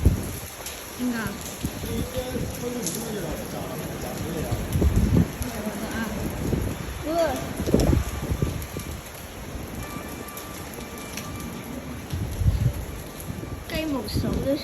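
Heavy rain pours steadily during Typhoon Saola in Hong Kong, with the yellow rainstorm and No. 9 signals in force, a dense continuous hiss with wind gusts as a person talks over it.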